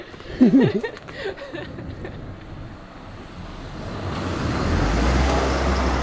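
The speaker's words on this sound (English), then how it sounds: "Watch out for the car." A car on a street in Japan's Aichi Prefecture rolls past, its road noise swelling steadily from faint to fairly loud after a brief burst of laughter and voices.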